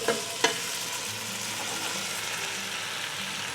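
Sliced leeks sizzling in melted butter in a pot, a steady close frying hiss with a couple of sharp stirring clicks near the start.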